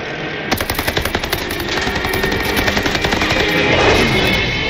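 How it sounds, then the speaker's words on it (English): Machine-gun fire in the video game Call of Duty Vanguard: a loud, fast burst of evenly spaced shots that runs into sustained heavy automatic fire and battle noise throughout. "Keep shooting at it!"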